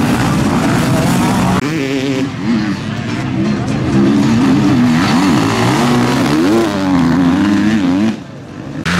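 Enduro motorcycles revving loudly at the start of a three-hour enduro race in Seva, a dense, continuous engine roar with rising and falling pitch as the bikes accelerate away, a crowd cheering underneath, and the noise dropping off sharply near the end.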